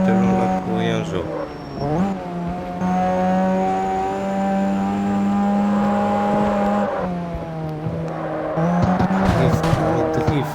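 A car drifting in the CarX Street racing video game, its engine droning loudly and continuously as squealing tires slide, with the engine pitch dipping and rising around shifts near the start and end.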